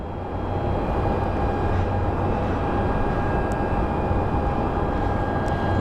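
SkyWest airliner at Phoenix Sky Harbor airport, a steady loud jet engine roar with a broad rumble and faint tonal whine, continuous with no voices.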